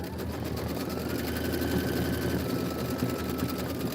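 A Kimberbell embroidery machine stitching a surfboard design hums steadily and evenly at moderate loudness, a continuous mechanical drone with a fine rapid needle texture and no talking.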